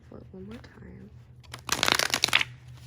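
A tarot card deck is shuffled near the mic in a quick flurry of riffling, papery snaps after a short stretch of soft talk.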